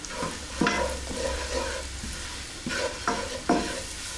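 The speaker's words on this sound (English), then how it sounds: "Then want to add the flour. And just create a roux." Flour is stirred into melted butter and olive oil for a roux, a soft sizzle underneath with repeated scraping strokes of a utensil against the pan, close and fairly quiet.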